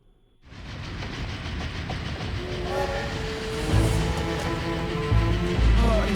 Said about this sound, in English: distant train noises.